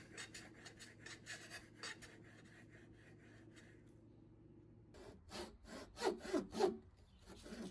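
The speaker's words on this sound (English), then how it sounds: "I'm cutting a slot in the middle of the board" A handsaw cuts a slot into the middle of a wooden board, giving a steady run of quiet rasping strokes that pause briefly, then return as louder, quicker strokes close by.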